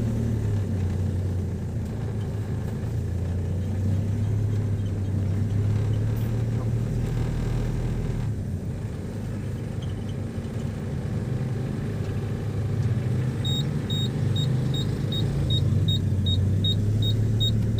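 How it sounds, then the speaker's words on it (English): Busy road traffic rumbles steadily at close range, car engines droning and passing continuously for the whole stretch, with a faint repeated electronic beeping near the end. "Lot of traffic."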